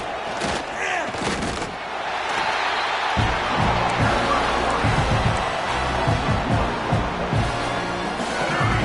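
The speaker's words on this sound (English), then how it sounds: "Decibels rising as the crowd gets behind this defense on 3rd down." Roaring stadium crowd at a Michigan State versus Michigan college football game, a dense continuous wall of cheering that swells louder on third down, with thumping low rumbles and no clear talk.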